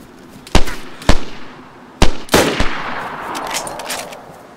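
Video game gunfire: four or five sharp, loud shots spaced irregularly, the later ones trailing into echoing crackle and rumble, with no talk.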